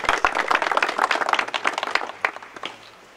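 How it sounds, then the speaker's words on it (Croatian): An audience claps for a general at a military brigade anniversary commemoration, a brief burst of scattered hand claps that thins out and fades within a few seconds. "Jedan aplauz za našeg generala."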